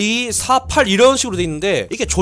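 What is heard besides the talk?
No distinct noise like a dog, phone or traffic.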